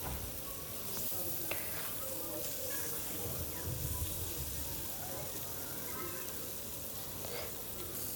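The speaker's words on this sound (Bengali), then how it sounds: "মাছগুলো ভালোভাবে ঘুরিয়ে ঘুরিয়ে ভাজতে হবে একবারে লাল করে" Tilapia pieces fry in hot oil and are turned until deep red, giving a steady, faint sizzle and hiss with no talking.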